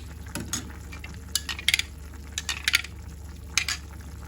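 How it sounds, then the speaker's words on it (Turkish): Hot chicken broth is stirred into flour in a pot, giving soft scraping and intermittent metallic clinks of a utensil against the vessel over a low, steady background hum. "Sıcak suyundan biraz alıp unumuzun içine karıştırıyoruz."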